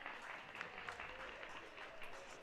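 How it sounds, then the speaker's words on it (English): Faint, soft applause from spectators at a college men's tennis match between MTSU and South Florida, a brief patter of clapping in a quiet venue. "slow claps will slowly start to creep in here at the Cathedral"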